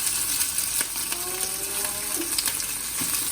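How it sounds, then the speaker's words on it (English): Mushrooms stir-frying in a hot pan, a steady close sizzle with soft clinks and scrapes of a utensil stirring, no voices. "Mix them together and stir fry until no more excess liquid"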